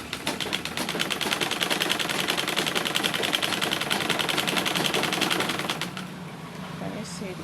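A sewing machine stitches a side seam pocket on a dress, hammering out a rapid, even clatter up close for about six seconds before stopping, with quieter room sound and light handling afterward.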